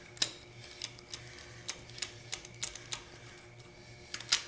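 Ratchet clicks from tightening 13 mm bolts on a Saturn engine's intake manifold, working from the inside out, come as short sharp ticks in scattered bursts, close and fairly quiet over a low steady hum.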